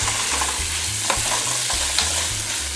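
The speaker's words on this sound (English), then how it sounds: "So let's get these sausages sauteed down and the cheese sauce ready." Pre-cooked sausages sautéing in a pan to heat them and render the grease, a loud continuous sizzle with a low rhythmic hum and occasional sharp clicks of the utensil, no talking.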